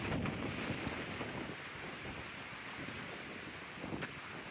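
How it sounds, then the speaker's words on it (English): Steady outdoor wind blowing across the microphone at a trailhead on the Appalachian Trail, a broad rushing roar with gusty buffeting that holds throughout and brief louder swells. "It's windy out here though."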